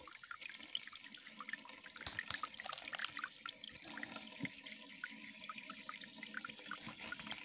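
Clean spring water from a forested mountain runs steadily through a hose into village storage tanks, a soft continuous trickle and splash with faint drips, quiet and unvoiced.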